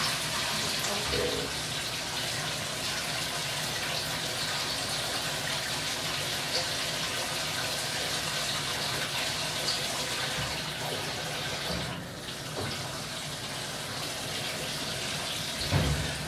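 Water gushes steadily into a washing machine loaded with clothes and towels, a continuous close rushing flow that holds even throughout with no break.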